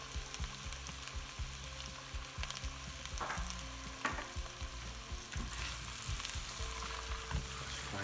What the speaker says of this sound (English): fry gently.